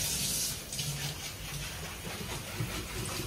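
Water runs steadily from a tap while something is rinsed beside it in a home kitchen during hair-care preparation with rosemary water and flax seeds, a continuous close splashing hiss with faint clatter and no talk.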